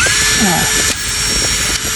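A power drill under test runs with a steady, loud high whine that barely wavers, briefly dipping twice, heard close with no clear talk over it.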